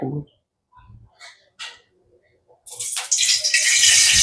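Water from a spoon hitting hot oil in a kadai while cooking rasam: a sudden loud, bright crackling sizzle bursts in after a few quiet moments of speech and keeps hissing steadily.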